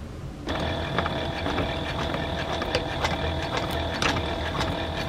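Sewing machine stitching the first row on a fabric snuffle mat for a dog, starting abruptly with a steady, close mechanical whir and rapid clatter that runs continuously.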